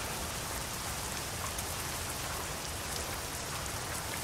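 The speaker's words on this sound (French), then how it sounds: "un orage, de la pluie." Steady, dense rainfall from a thunderstorm in the video game American Truck Simulator pours down continuously, a broad hiss of drops hitting surfaces with no pauses or voices.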